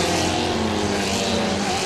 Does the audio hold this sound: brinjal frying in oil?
no